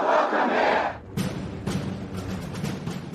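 Crowd of protesters lining the streets against Trump's state visit, a loud massed roar of voices that breaks off for a moment, then resumes as a rougher, scattered din of shouting.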